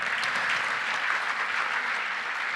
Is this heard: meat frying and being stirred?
no